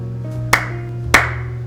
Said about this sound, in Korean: 저도 한번 박수 쳐드리죠